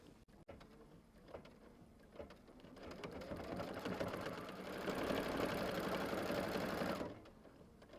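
A sewing machine stitches down a quilt casing in one continuous run, its hum rising in speed and loudness before stopping abruptly near the end, close and alone.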